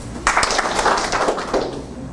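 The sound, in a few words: audience applause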